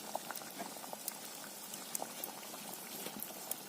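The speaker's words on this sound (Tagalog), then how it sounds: "Kumukulo na po." Water bubbling at a steady rolling boil, with a dense crackle of small pops and occasional louder bursts, close and continuous.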